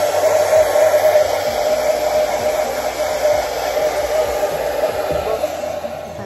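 A hair dryer blows with a steady, loud whooshing hum that holds constant throughout, fading slightly toward the end.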